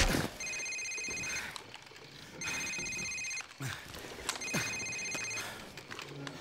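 A mobile phone rings in Call of Duty 4: Modern Warfare, sounding three repeated electronic ring bursts in steady rhythm, close and clear over faint background ambience.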